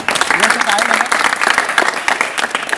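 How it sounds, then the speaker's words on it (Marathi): An audience at a science college opening event in Chiplun bursts into loud, sustained applause, with a voice speaking over the clapping. "मला वाटतं एकदा जोरदार सगळ्यांनी टाळ्या वाजवायला हरकत नाही"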